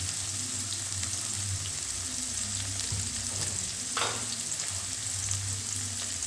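Tomatoes fry in a pan for egg bread masala, a constant close sizzle with soft stirring scrapes and one brief louder hiss partway through.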